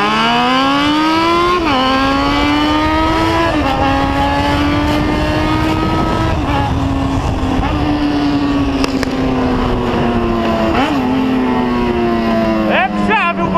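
A motorcycle's loud exhaust with its rear fender removed drones close by throughout a night ride, the pitch rising and dipping with repeated revs and blips.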